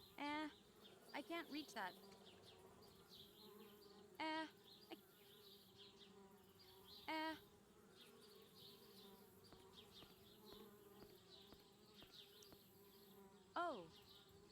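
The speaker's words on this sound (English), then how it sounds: "Darn bees, trying to move into our tree house." Bees buzz around a tree house in the Anna's Quest adventure game, a continuous low drone that runs throughout, while a voice speaks briefly and short bright chirping sounds appear at intervals.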